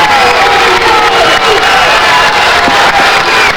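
A high school basketball crowd in a packed gym roars and shouts in reaction to a foul call, loud and sustained throughout, with whoops and bellows rising above the din.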